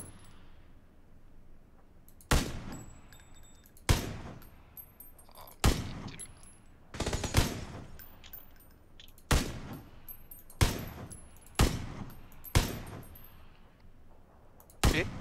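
Gunfire in a battle royale video game: sharp, loud single shots in an irregular rhythm, roughly every one to two seconds, with quiet gaps between and no talk over them.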